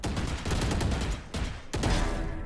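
Sustained rapid automatic fire from a Vandal rifle in Valorant, a loud continuous rattle of shots with brief breaks between sprays.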